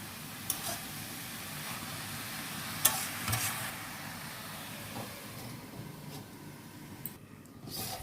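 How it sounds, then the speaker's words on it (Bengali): Nota shak leafy greens are stirred in a pan, giving a steady soft sizzle with scraping and clinking from the utensil. It sounds close and carries no speech. "এবার একটু এটাকে নেড়ে চেড়ে ঢাকা দিয়ে দেবো বেশ কিছু সময়ের জন্য"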